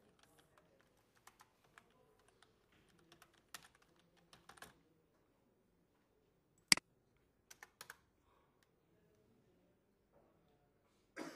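Sparse keystrokes on a computer keyboard, quiet and close, in short irregular bursts with long pauses between them, plus a few sharper isolated clicks.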